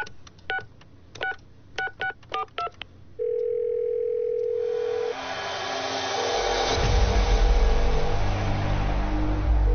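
A landline telephone in a movie scene plays a quick run of dialing beeps, followed by a steady dial tone, then a rising rumble like a passing vehicle that grows louder toward the end.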